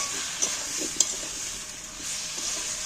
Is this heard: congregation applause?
no